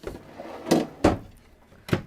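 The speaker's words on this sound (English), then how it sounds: "Partitioned wood drawer, nicely built wood too." Partitioned wood drawer in a 2020 Venetian R40 RV, opened and closed with a few soft wooden thumps and slides, several sharp knocks in quick succession, close by with no talking.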